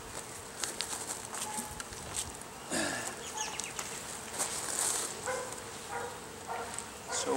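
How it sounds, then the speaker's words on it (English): Honey bees hum in a continuous busy drone at a hive during a post-swarm inspection, with light clicks and handling noises on top and a few muffled voices nearby. "Lots of bees."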